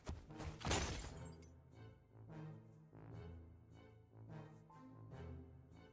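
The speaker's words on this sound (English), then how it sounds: "Glass shatters." Loud glass window shattering near the start, a bright crash with falling shards, followed by a dark, tense musical score with low droning tones in a fantasy adventure game.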